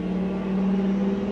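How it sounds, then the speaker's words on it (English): A loud car engine droning steadily outside, a sustained low hum with strong tonal layers lasting the whole moment, fairly loud and with no voices over it. "I don't know if you guys could hear that, but that was a loud car."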